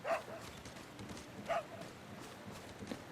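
A puppy in the Resident Evil 4 video game gives a few short, faint yelps and whimpers over low game ambience, one near the start and another about halfway through.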